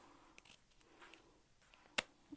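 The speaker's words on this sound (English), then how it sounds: "cutting the zipper tape" Scissors snip through zipper tape with one sharp, close cut standing out after a few quieter handling taps, followed by a small click.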